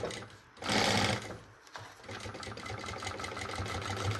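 Sewing machine running in short bursts, stitching a seam of synthetic fabric for a maternity bag, close and steady with a brief louder surge near the start.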